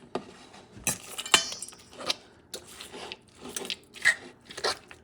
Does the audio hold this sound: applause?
no